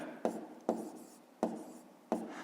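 Someone writes math by hand: four crisp, close strokes of pen or chalk come at irregular intervals, each a sharp tap fading into a short scratch, against a quiet room.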